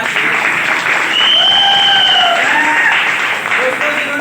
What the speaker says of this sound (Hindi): इनके लिए भी एक जोरदार ताली होना चाहिए।